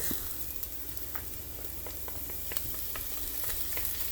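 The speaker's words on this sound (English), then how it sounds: "Now I'm gonna add my garlic to this." Garlic hits sauteing onions in a pan and sizzles steadily, with soft crackles and faint stirring scrapes, close and fairly quiet, with no talking.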